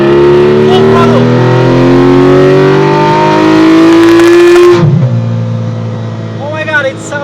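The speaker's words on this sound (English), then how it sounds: "This is a flat 6 GT3 engine" Porsche Cayman GT3 with a PDK gearbox, its flat-six engine screaming at full throttle in a loud rising pull that cuts off sharply near the end and settles to a low idle while someone exclaims.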